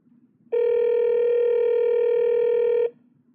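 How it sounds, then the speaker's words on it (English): An Apple iPhone places a call, sounding one steady, loud electronic tone that starts abruptly, holds evenly for over two seconds and cuts off, with faint hiss before and after. "You can also tap on a phone number in a text message to instantly call that person."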